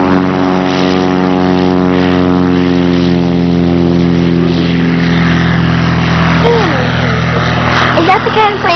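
Small propeller airplane taking off at an airfield, a loud steady engine drone with strong harmonic tones throughout, while a voice talks over the latter part.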